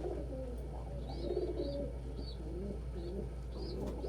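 Pigeons cooing nearby, several soft repeated coos over a steady low background hum, faint chirps above them.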